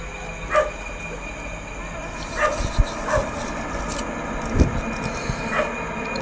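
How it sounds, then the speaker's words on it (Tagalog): Dogs bark outside at night around 11pm, several short yaps spread across the clip, somewhat distant and muffled beneath a steady rumbling background like a passing train, with no one speaking. "ang mga aso hindi pa rin tumitigil sa pagtahol"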